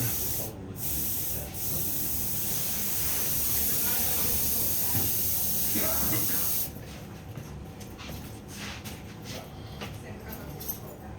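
A spray bottle hisses continuously onto animal hair while a deer is being mounted in taxidermy, lasting several seconds before cutting off into quieter rustling and handling noise.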